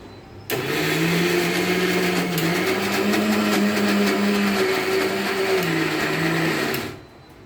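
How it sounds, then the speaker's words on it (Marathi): A mixer grinder whirs loudly and steadily for about six seconds, blending chocolate kulfi mixture, its motor pitch shifting slightly as the blend churns, then cuts off. "हे मिश्रण आता मी मिक्सरमधनं फिरून घेते"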